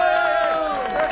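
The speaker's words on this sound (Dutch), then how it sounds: "geef een applaus voor onze meter en Peter" Crowd cheering and shouting continuously, near and fairly loud, with voices blending into a steady roar through the whole moment.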